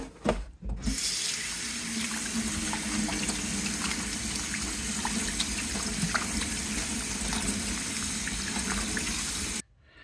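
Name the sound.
water running while cleaning an octopus under the tap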